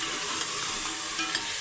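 Meat frying with ginger garlic paste for palak gosht, a steady close sizzle, loud and even, with faint stirring.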